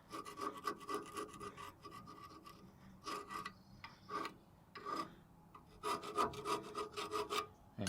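Rust scraped off the rear brake parts of a 2003 Ford F150 with a tool, heard as close, gritty rasping strokes in repeated bursts separated by short pauses.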